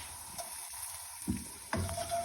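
Chillies sizzling in hot oil for a classic Indian tadka for slow-cooked dal makhani, a soft steady crackle with a couple of brief louder spits near the end, close and quiet, without talk.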